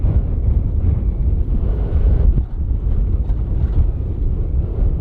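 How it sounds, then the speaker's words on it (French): Steady, heavy desert wind in Kazakhstan's Mangystau roars and rumbles close against the microphone for several seconds, with no voices. "Le plus dur dans le désert, ça reste le vent."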